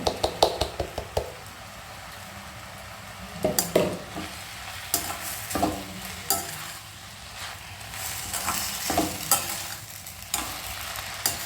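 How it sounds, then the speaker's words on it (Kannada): Shavige bath with grated coconut is stirred in a pan, giving scraping and clinking spoon strokes in irregular bursts over a soft, steady sizzle at close range. "ಒಂದ್ಸರಿ ಮಿಕ್ಸ್ ಮಾಡಿ ಎಲ್ಲ ಹೊಂದ್ಕೊಳ್ಳೋ ಥರ"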